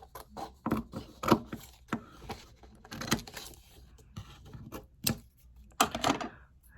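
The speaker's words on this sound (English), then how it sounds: "now it's time to cut the paper" Scissors cut paper for a toilet paper roll craft chain in a quiet room, a series of about ten short, crisp snips spaced irregularly, close and fairly soft.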